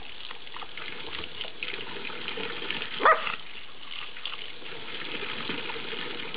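A pet dog laps from a water purifier's continuous flowing supply, a steady wet lapping and trickling close by, with one brief louder splash near the middle.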